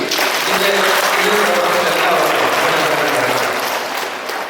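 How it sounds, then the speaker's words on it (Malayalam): Applause from an audience at a medical equipment distribution ceremony, a dense, steady clapping that holds loud throughout with a murmur of voices mixed in, easing slightly at the end. "നമുക്ക് നല്ല ഒരു കയ്യടി നൽകി"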